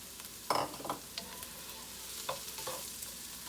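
Pre-cooked meat and onions fry in oil for fried rice, a quiet sizzle under a few distinct scrapes of a spatula stirring the pan, with pauses between them.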